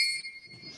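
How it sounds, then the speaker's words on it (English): Tail of a warning bell at a city council candidates forum, a bright metallic ring that is already sounding and fades within a fraction of a second into faint background noise. "We will hear a 30-second warning bell like this,"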